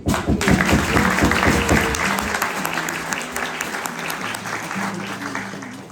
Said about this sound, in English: how about one last round of applause for your chief this evening?